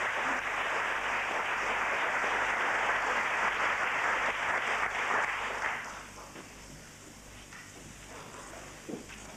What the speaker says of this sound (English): please give them a warm hand of applause